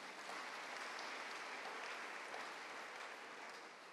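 A church congregation applauds together in acclaim of the Lord during a sermon, a dense, steady wash of clapping that holds evenly for several seconds with no voices on top.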